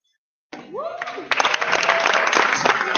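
Awards event audience clapping and cheering, starting after a brief voice and building into a dense, continuous round of applause.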